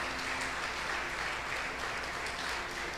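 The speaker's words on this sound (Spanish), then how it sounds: "Dele un fuerte aplauso a Él." A church congregation claps in a steady, even patter that stays at a fairly low level throughout with no pauses.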